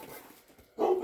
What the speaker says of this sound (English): He's trying to get the dog activated now.